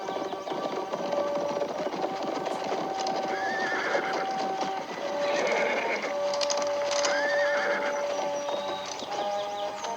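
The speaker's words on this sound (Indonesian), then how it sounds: "Ada 10 orang naik kuda sedang menuju kemari" Horses carrying ten riders approach, with neighing and whinnies over busy hoof clatter and a steady mechanical-sounding hum, fairly close and continuous with no talking.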